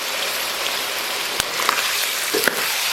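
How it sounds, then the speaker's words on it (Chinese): Pork belly stir-fried in a wok with soy sauce gives a steady, dense sizzle with a few sharp ticks and clicks of the spatula and no voices. "简单给它煸炒一下"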